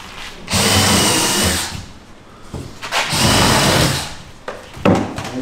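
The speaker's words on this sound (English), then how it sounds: "Mark it, and then just go ahead and pre-drill." A power drill whirs in two long bursts, pre-drilling screw holes into wood for a truck-top camper build, then a brief third burst at the end, close and loud with no voices.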